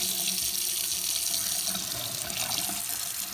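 Water runs steadily from a tap into a sink at moderate loudness, a constant hissing splash, with a recirculating pump serving a tankless water heater.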